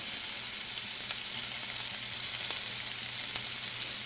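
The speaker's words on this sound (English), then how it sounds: "All we're going to do is break these onions up a little bit and let them cook down." Onions broken up in a pan and left to cook down, giving a steady, even sizzle of frying throughout with no voices.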